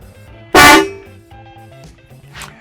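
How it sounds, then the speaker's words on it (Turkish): A single loud, bright blast from a Hella Vatican bell car horn cuts through a low rhythmic engine idle, followed later by a fainter second tone. "çatlarda da tercih edilen bir kornadır Vatikan çanı"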